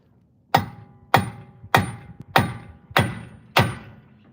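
Six evenly spaced, heavy metallic hammer blows on a rusty truck axle, each a loud close clang ringing briefly before the next, with no talk.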